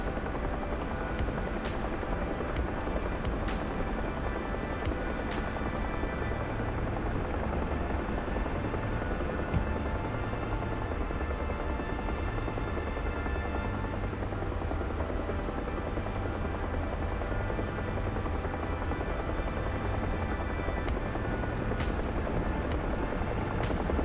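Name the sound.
Huey helicopter flying in video game DCS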